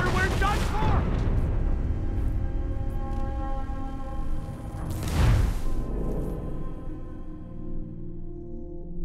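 Ship cannons firing during a naval battle in Assassin's Creed IV Black Flag, two heavy booms, one at the start and one in the middle, with a rumbling tail and game voices shouting around them.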